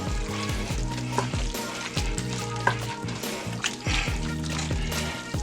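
Cajun pasta ingredients being stirred in a hot pan before andouille sausage and shrimp go in, a steady sizzle under rhythmic scraping strokes of a utensil repeating about once a second, close and clear.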